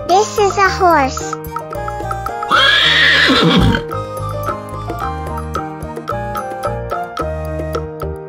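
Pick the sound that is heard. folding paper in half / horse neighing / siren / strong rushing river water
horse neighing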